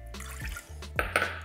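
Water is poured into a medium cooking pot with heavy cream, salt and milk for churro dough, a short close splash and slosh with a light clink.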